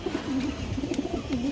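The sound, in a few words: pigeons cooing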